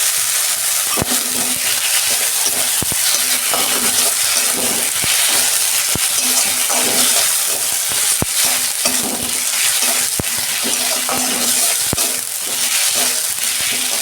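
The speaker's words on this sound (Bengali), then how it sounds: "আমি 2 মিনিট এটা কষতে নেবো আদা রসুনটা" Onions fry with ginger garlic paste in a pan for a fish curry, a loud constant sizzle broken by repeated sharp clicks and scrapes of a spoon stirring; no voices.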